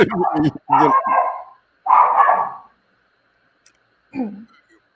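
A dog barks nearby in a few short, separate bursts with quiet gaps between them, the last bark coming after a longer pause.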